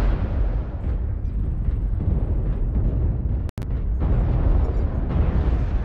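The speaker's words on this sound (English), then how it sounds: "Artillery strike activated." Artillery strike explosions in MechWarrior Online: heavy, rumbling booms rolling continuously, loud and low, broken by a brief dropout before the barrage resumes.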